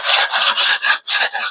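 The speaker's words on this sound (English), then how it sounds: "Now I'm going to use a rasp." Steel rasp filing old paint off a timber dowel bead, a loud close scraping in rhythmic strokes of about a quarter second, with short pauses between passes.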